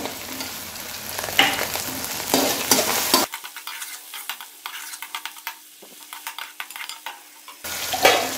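Cut tomatoes sizzle and crackle in a hot pan with ginger and garlic for mutton pulao while a utensil stirs and scrapes, with louder bursts of frying at the start and end.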